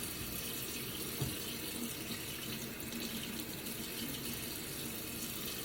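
Hot water runs steadily from a kitchen sink tap while dishes are washed, a continuous, close hiss and splash that stays even throughout, with no voices.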